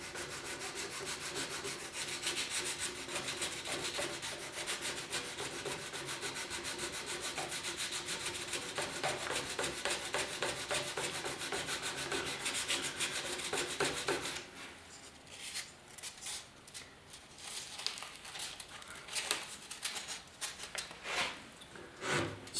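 Sanding a plastic Porsche 911 decklid grill by hand with 220 grit sandpaper: fast continuous rubbing strokes for about fourteen seconds, then slower, broken scrapes, close and fairly quiet with no talk.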